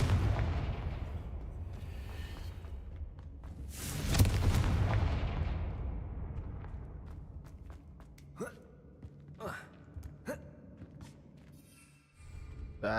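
Confringo blasting spell detonating in a Harry Potter video game, a single loud burst near the middle that rolls off into a fading rumble, followed later by several sharp short impacts.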